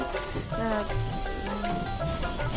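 Cumin seeds, bay leaf and dried chili fry in hot oil in a kadai, with a steady close crackling sizzle throughout and faint background tones, and no talking.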